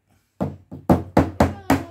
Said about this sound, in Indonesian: iya buat ketok-ketok palu